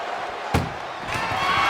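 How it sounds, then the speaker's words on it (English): An ambulance door slams shut in the wrestling video game WWE 2K24, a single sharp bang early on, followed by a steady crowd roar. "If they can slam this door shut, it's over."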